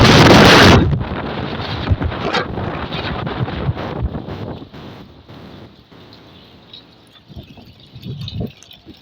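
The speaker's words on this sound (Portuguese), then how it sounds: "olha o vento" Strong wind in a town neighbourhood in Araraquara roars and buffets the microphone, starting with a loud gust and then easing into gusty rumbling that rises and falls with scattered bumps.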